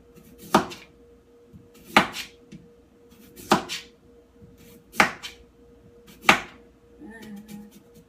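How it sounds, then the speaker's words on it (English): A knife thinly slices sweet potatoes into chip-thin rounds on a cutting board, five crisp evenly spaced chops about a second and a half apart, close and clear, with a faint voice at the end. "If I'm doing them in like the chip form, I thinly slice them"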